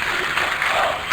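A home crowd applauds and cheers at the ESL One Katowice 2015 CS:GO quarterfinal between Virtus.Pro and Keyd Stars, a brief, steady wash of clapping filling the arena.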